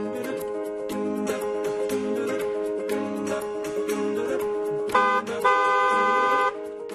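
Car horns blare in sustained, overlapping honks over steady traffic noise, with a louder, brighter horn blast near the end.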